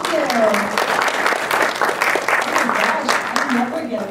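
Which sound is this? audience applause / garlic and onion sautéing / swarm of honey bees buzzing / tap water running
audience applause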